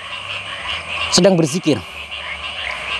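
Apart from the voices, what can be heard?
frogs croaking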